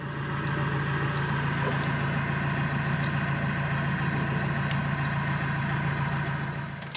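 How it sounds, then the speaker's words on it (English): A loud car engine idles outside a narrowboat after midnight, a steady low hum at moderate distance, unchanging in pitch, with a faint click or two on top. "if someone just started quite a loud car engine outside your bedroom window and then just ran it"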